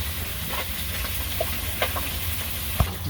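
Fish fries in a pan and gets stirred, a steady close sizzle with scraping and clinking strokes and a knock near the end.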